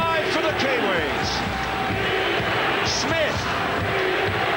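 Rugby league stadium crowd at Ericsson roaring and cheering for the New Zealand Kiwis against Queensland in 1997, a continuous loud wash of noise with bursts of shouts, under a commentator's voice.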